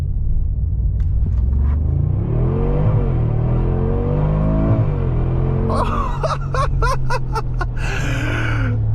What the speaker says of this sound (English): Race starting a G63 AMG.